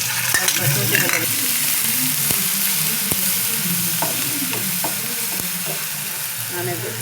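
Onion with ginger garlic paste fries for a fish egg masala under a steady, loud sizzle, with sharp spatula clicks and stirring taps scattered throughout.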